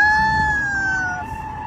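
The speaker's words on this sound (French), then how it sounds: "Ce bruit que vous entendez n'est autre que le bruit du freinage sur le carrelage" A long, high squealing screech of car brakes on a tiled floor, loud at first and slowly fading and sliding slightly lower in pitch over under two seconds, with faint background noise.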